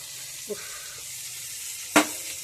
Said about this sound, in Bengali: সমস্ত উচ্ছেটা দিয়ে দিয়েছি এবারে ভালোভাবে নেড়ে করে ভেজে নেবো